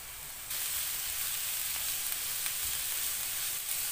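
Cabbage lands in a pan of onion and carrot frying in oil, and a steady loud sizzle fills the scene from then on without pause.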